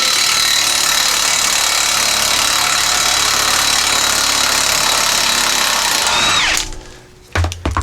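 Impact wrench hammering at stuck U-bolt nuts on a Jeep Cherokee XJ exhaust, a loud continuous rattling whine for about six seconds that then winds down, followed by a couple of short clunks.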